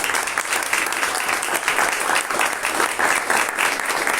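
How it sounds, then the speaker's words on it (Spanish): A church congregation bursts into loud, full applause, dense and sustained from start to finish without pause. "Denle otro aplauso fuerte al Señor"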